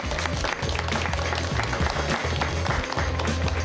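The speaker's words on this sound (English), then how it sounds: "Final round of applause for everybody" A crowd at the Arkansas Governor's Quiz Bowl tournament applauds the 7A all-tournament team, a loud, steady burst of clapping from many hands with some thumping underneath, lasting a few seconds.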